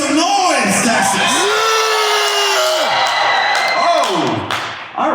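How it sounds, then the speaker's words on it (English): Crowd at a Texas Christian rock concert in a church assembly hall cheers and yells, with loud whoops and sustained shouts rising and falling in pitch, a dense roar continuing for several seconds before fading. "let me hear you make some noise, Texas"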